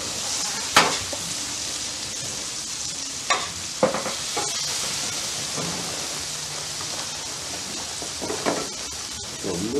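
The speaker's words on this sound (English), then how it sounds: "scrape that grill, get all those leftover onions in here" Leftover onions reheating on a flat top grill give off a continuous sizzle, broken by a few sharp scrapes and clatters of a spatula against the metal surface, with no voices.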